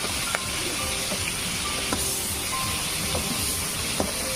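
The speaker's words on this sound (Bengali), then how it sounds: "কড়াই ভিতরে সরষের তেল দিয়ে দিছি, দিয়ে মাছটি দিয়ে দিতেছি" Small puti fish frying in mustard oil in a wok give a steady, close, broadband sizzle that hisses evenly throughout, with a few faint clicks and pops and no talking.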